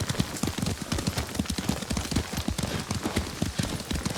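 Rhythmic, steady galloping of horse hooves in the game Ghost of Tsushima, close and even, pounding continuously without pause.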